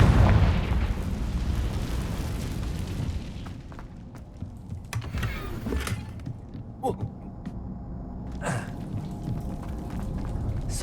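The Confringo blasting spell in Hogwarts Legacy goes off with a loud, dense boom that decays over a few seconds, followed by sparse pops, creaks and small debris sounds.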